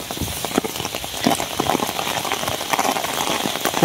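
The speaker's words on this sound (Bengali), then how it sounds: "আপনার বৃষ্টি পড়তেছে তো ক্যামেরার মধ্যে" Steady rain pattering on a surface, a dense, continuous hiss with scattered drop ticks throughout.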